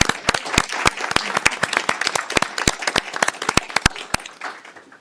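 A small group at a mayor and council meeting gives a round of applause after a unanimous vote. The sharp, sparse claps are close and distinct, then thin out and fade within about five seconds.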